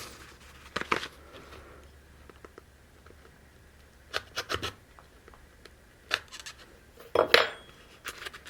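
Steel blade being fitted into a Veritas bullnose plane on a quiet bench, heard as a few separate metallic clinks and scrapes spread across the stretch, the loudest cluster near the end.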